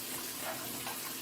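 Mixed sauce liquids being poured over food in a crock pot, a brief, even hissing splash of liquid.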